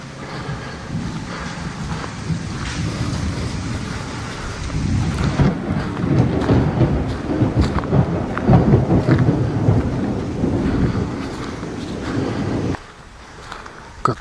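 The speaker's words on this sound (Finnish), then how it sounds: "myös ukkonen taas tulla päälle, jyrähteli oikein iloisesti ja välähteli" Thunderstorm over the Thai countryside, with thunder rumbling and rolling loudly through steady heavy rain, swelling midway and then easing near the end.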